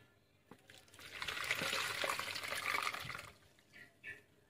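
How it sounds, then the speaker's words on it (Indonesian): Boiled moringa leaves and their cooking water pour into a strainer set over a container, a steady splashing trickle lasting a couple of seconds, followed by a few brief small splashes. "Sekarang kita tuang daun kelor yang sudah direbus tadi."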